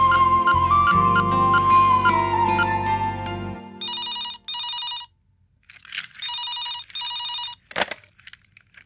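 A telephone rings during a call, first under a loud swell of music, then alone as several spaced electronic ring bursts, fairly loud and close, followed by a short click.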